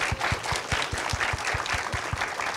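An audience at a climate crisis discussion session gives steady applause for four panel speakers, a dense, even wash of clapping with rhythmic heavier claps throughout.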